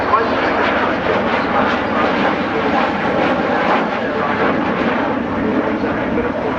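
Avro Vulcan XH558, a large delta-wing bomber, roars overhead at the Farnborough 2012 airshow in a loud, continuous broadband rumble, with a commentator talking over it.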